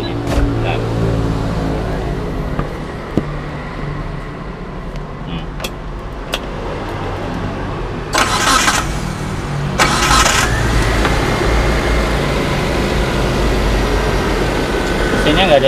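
A 2015 Mitsubishi T120SS truck engine cranks and starts, then settles into a steady rumbling idle, with a couple of short bursts of rushing noise partway through.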